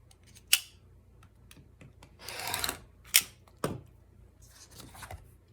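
Scissors cutting a fabric quilt template make a few crisp, close snips and rasping slides of the blades, separated by short pauses.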